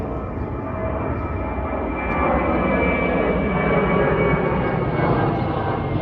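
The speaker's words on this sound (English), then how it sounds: "Comes another plane." A passenger airplane flies low overhead just after takeoff near Howard Beach, Queens, its engines a loud, steady roar that swells slightly in the second half, with no voices.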